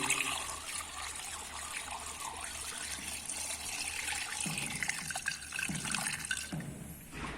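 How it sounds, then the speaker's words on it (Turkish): Coolant being poured into the engine of a Renault Megane 1.6 16v, a soft, faint trickle and gurgle of liquid running steadily for several seconds with light clatter near the end. "motor suyunu ilave ediyoruz."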